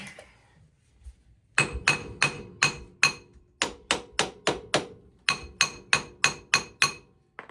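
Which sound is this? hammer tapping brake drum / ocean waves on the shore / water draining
hammer tapping brake drum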